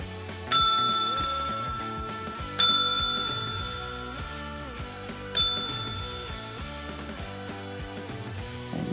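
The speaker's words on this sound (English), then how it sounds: "it's an actual pet bell." A small pet bell rings three times with bright metallic dings, each one loud and close and fading slowly over steady background music.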